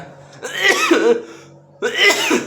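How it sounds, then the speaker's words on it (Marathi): Two harsh, chesty coughs close to the mic, the second following after a brief pause. "मला कालपासून जरा खोकला चालू झालाय अचानकच."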